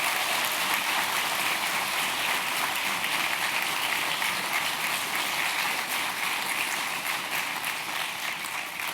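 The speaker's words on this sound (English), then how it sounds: "So let's give them a round of applause" Audience applause at a Stanford Online High School awards ceremony, a steady soft patter of many hands clapping, moderately faint and even, slowly tapering toward the end, without talk.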